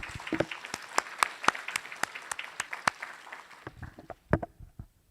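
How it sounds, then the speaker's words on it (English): Audience applause at the Fintech Indaba 2022 event: sparse, distinct claps from a modest crowd that thin out near the end, with a few louder individual claps standing out. "allow me to borrow your hand to give you a big round of applause for yourself"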